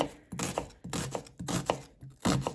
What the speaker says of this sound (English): I'm gonna go ahead and start chopping up my vegetables.